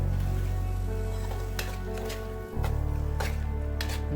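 Potatoes and sprouted val beans being stirred in a cooking pan, with a steady close sizzle from the hot pan and a few sharp utensil scrapes and clicks against the metal.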